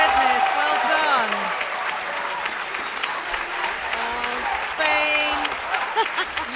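Spectators from the Czech Republic clap and cheer at the WJPC 2023 final, a steady wash of applause under announcers talking.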